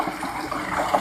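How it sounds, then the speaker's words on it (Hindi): Water gushes under strong pressure from a 20 HP solar-powered tubewell with a 6-inch delivery pipe in a rain-fed farming area, a loud, steady, close-up rushing roar with no pauses. "दोस्तों दूसरे एंगल से पानी, ये अभी टेस्ट ड्राइव थी पूरे ट्यूबवेल की।"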